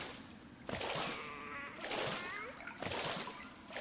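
A character swimming through water in the video game Hollow Knight, with repeated splashing and sloshing strokes in bursts, fairly loud and close, under someone speaking.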